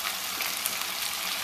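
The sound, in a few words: green chillies frying in oil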